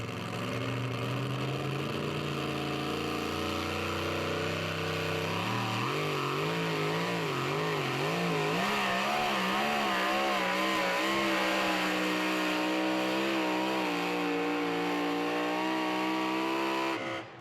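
A super modified two-wheel-drive pulling truck named Two-Timing roars at full throttle during a truck and tractor pull, its engine note climbing and wavering as it charges down the track, loud and sustained without voices.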